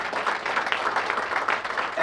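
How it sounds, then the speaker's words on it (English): A crowd at a Davos event in the ICEhouse gives a brief round of applause, a dense patter of clapping heard at moderate distance throughout. "So I want to give them a special round of applause."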